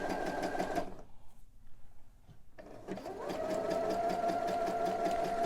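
A sewing machine runs a zigzag stitch through stretchy knit fabric for boxer-brief underwear. It hums steadily and close, then pauses briefly, then starts again and runs evenly to the end.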